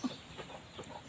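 Chickens at a Thai village market cluck softly in a few short, scattered calls, faint against low background noise.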